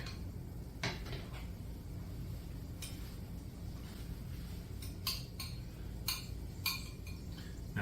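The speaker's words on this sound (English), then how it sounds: "So let's get some of this out of here. Put it in our bowl" A metal spoon scrapes and clinks against a pot and bowl while simmered southwestern cream corn is served. The clinks are scattered and faint over a steady low background hum.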